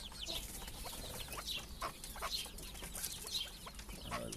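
Chukar partridges call with repeated short clucking notes, close by among a mix of small cage birds chirping in the background.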